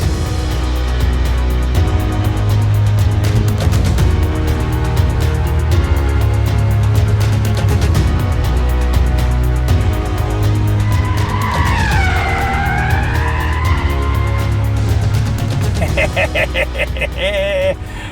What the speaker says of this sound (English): Start getting on the power there. Oh, I'm doing a drift.